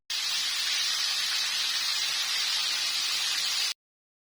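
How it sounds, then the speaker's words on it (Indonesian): Fish frying in hot oil, a dense steady sizzling hiss lasting a few seconds before cutting off abruptly, with no talking. "Nah sekarang kita langsung aja masukkan atau goreng ikannya ya."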